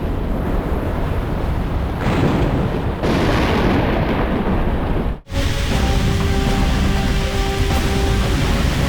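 Thunder from a storm in the survival horror game Cold Fear, heavy booming rumble rolling across the first five seconds, a sudden cut, then a steady storm roar with a low droning hum continuing to the end.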